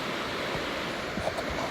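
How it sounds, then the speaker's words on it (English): Water flows steadily a short way downhill, a soft continuous rushing wash like a stream or small falls, fairly quiet and unbroken, with no one talking. "the flowing water that's just down from where I am right now"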